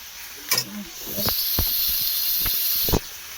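Bottle gourd cooking in a pan tempered with mustard seeds in a home kitchen: steady, close steam-like hiss with scattered pops and soft clicks from the pan.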